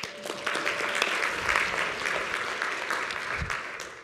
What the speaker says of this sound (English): Everybody give Hisham a round of applause.